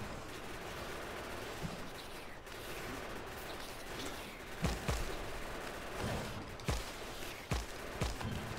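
Gunfire aimed at biters in the modded factory-building game Factorio: faint, steady rattling shots under a constant background din, with several sharper, louder cracks landing irregularly in the second half.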